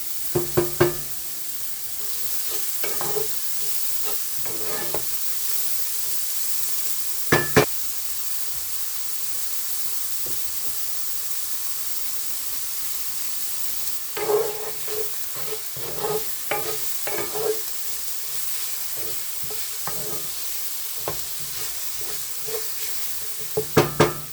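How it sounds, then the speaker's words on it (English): Vegetables sauté in a pan for shepherd's pie with a steady soft sizzle, broken by several clattering stirs and scrapes of a utensil against the pan. "just let this saute for a couple minutes"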